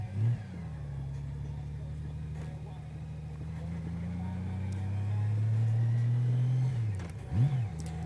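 A Honda Goldwing motorcycle cruises at night, its engine a steady close drone that slowly climbs in pitch over several seconds before easing off, with road and wind rumble underneath.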